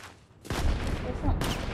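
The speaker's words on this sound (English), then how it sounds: "And I'm being shot." Bursts of gunfire strike the player in a video game, a short rattling volley of shots after a quiet moment, close and loud.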